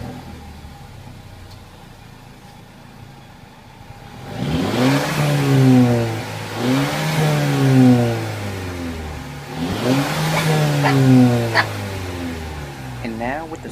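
A 2014 Mercedes CLA 250, sport mode off, revs three times after a quieter idle, each rev a rising, roaring sweep that drops back down, close and loud.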